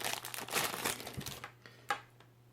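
Packaging for Etekcity Bluetooth 4.1 earphones crinkles and rustles up close as it is opened, a loud burst of crumpling that fades, then a single sharp crackle near the end.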